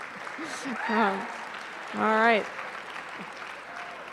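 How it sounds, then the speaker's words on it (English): A university clinician's investiture audience gives a steady patter of clapping, with a speaker's voice breaking in twice over it. "you can applaud him if you would like to"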